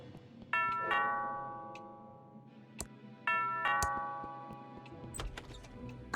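A two-tone ding-dong doorbell chime in the video game Thimbleweed Park rings twice, clear and ringing out, with a few soft clicks and taps around it.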